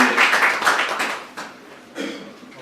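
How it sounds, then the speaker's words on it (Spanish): Audience applause at a documentary meeting in Barcelona, a burst of clapping from a seated crowd that fades and swells again, heard fairly close with a faint voice beneath it. "Damos un fuerte aplauso y empezamos con Miquel."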